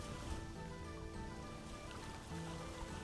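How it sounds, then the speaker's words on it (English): Waves and water running against a boat in the video game Vintage Story, a steady broadband wash with no breaks, low and even in level throughout. "you can hear like the waves and the like water running against the boat"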